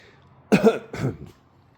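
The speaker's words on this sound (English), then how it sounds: "I'm fighting off a cough" Two quick, rough coughs in succession, close to the mic, with a short pause between them and quiet afterward.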